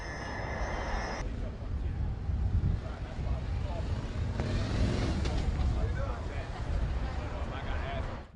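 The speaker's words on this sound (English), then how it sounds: "You just saw one of the finest officers in Newark, the motorcycle officers, drive by" Police motorcycles passing by on a Newark street during an outdoor protest, a rumbling engine wash that swells and fades amid wind noise and crowd ambience, with people talking nearby.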